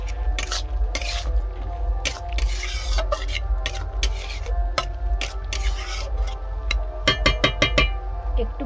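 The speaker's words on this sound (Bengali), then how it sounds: "মাছগুলো দিয়ে দেব। এদিক ওদিক করে নাড়িয়ে দেব।" Small river bele fish being stirred and turned in a frying pan, with repeated scraping and clinking of a utensil against the pan over a steady low hum, no talking.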